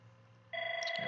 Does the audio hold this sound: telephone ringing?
yes